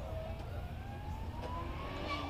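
A racing car at the Prescott hillclimb heads into Ettore's bend, its engine note climbing steadily in pitch as it accelerates, moderately distant and continuous over faint ambient noise.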